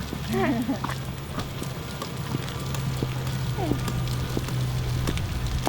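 Steady clip-clop of a horse's hooves on a hard surface at a therapeutic riding centre, repeating rhythmically at close range, with a constant low hum and brief talking mixed in.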